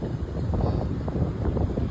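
Steady wind rushes and buffets against the microphone, a continuous rumbling whoosh with no voices.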